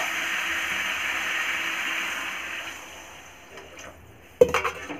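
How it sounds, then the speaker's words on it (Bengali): Water poured into a fish curry pan, a steady rush that fades out, followed near the end by a sharp clatter of metal utensils against the pan. "এবারে জল দিয়ে দেবো।"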